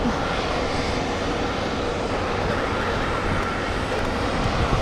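Airplane engine at JFK airport seen while plane spotting, a loud, steady broadband roar that holds evenly throughout with no talk.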